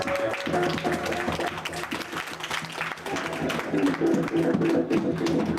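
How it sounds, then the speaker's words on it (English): A club crowd at Cafe Rainbow claps steadily in a sustained, fairly loud round of applause for a keyboard player, with a band's sounds and a voice mixed underneath. "Everybody give Cody a big round of applause."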